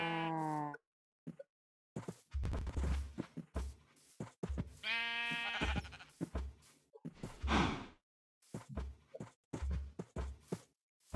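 Sheep in Minecraft bleat in short wavering cries, one at the start and another mid-way, among quiet footsteps and other game noises with brief pauses.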